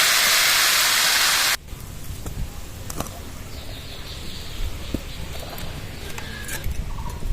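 Hot spice tempering poured into sweet, sour and spicy raw mango pickle gives a loud, hissing sizzle for about a second and a half, then cuts off to quiet background clatter.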